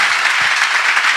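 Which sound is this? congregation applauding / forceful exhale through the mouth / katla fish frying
congregation applauding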